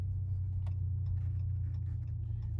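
A Chrysler 300 fitted with a Flowmaster Super 40 muffler and 5-inch Carven tips idles with a steady, deep, low burble, close and even, with faint ticking on top and no speech.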